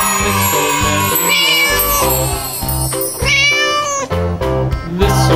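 A cat meows again and again in a playful, musical series of loud, close calls, some stretched into caterwauling whines, over a rhythmic children's song backing.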